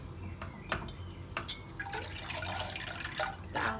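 Soaked soybeans for tempeh are drained, their water trickling and dripping into a container with small splashes and a steady liquid patter at close range, with no one talking.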